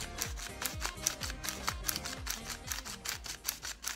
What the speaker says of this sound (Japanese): これラチェット式にこうやるだけでね、フィルムが巻けていくんですよ